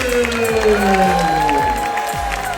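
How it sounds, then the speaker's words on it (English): Crowd applause and cheering aboard the Royal Caribbean cruise ship Utopia of the Seas as a chef is welcomed, a brief, steady clapping wash with tonal music or announcements layered over it. "if you could please welcome him with a huge round of applause"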